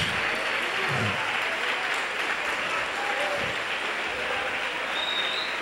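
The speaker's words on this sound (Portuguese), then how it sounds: "Quem quer ficar de pé comigo e aplaudir e glorificar?" A church congregation applauds steadily and loudly throughout, a dense continuous clapping with a few faint voices mixed in.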